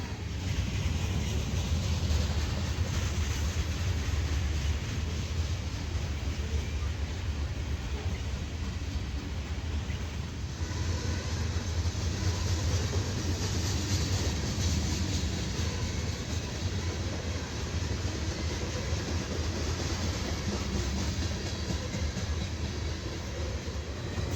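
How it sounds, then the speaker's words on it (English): A long Norfolk Southern freight train of grain loads rolls by continuously, a dense, steady rumble with rattling cars that holds at the same loudness throughout. "This train is grain loads heading south from Toledo, Ohio to Selma, North Carolina."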